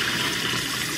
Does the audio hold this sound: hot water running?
yes